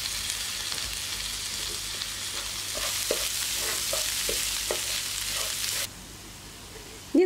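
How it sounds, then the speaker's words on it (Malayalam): Prawn roast stirred in a frying pan, a steady close sizzle with scattered scraping strokes of a spoon in the middle stretch, the frying dropping quieter near the end before a sharp clink. "നന്നായിട്ടൊന്ന് ഇളക്കി കൊടുക്കാം"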